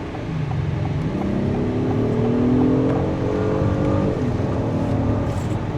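A 2026 Acura MDX Type S Advance three-row SUV accelerates around a sharp corner, its engine note climbing steadily under throttle, a continuous close hum with a rising tone that dips briefly before steadying.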